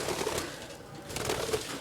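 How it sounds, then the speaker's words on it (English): Pet birds, a green one and a blue one, calling indoors: soft cooing and chirps repeat in two clusters over a faint background. "These are my birds."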